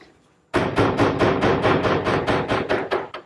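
Hammer blows drive a wooden dowel pin into a glued joint of a Nantucket settle, about a dozen sharp, evenly spaced strikes in quick rhythm, loud and close, with no talking.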